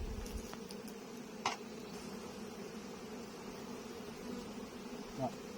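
A steady, dense buzz of honey bees swarming around an opened hive during spring colony inspection, continuous and close, with a few faint knocks and clicks over it.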